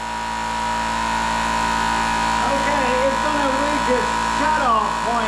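VEVOR 13-gallon air compressor running steadily nearby, a constant motor hum and whine with a faint pitch wobble late in the run.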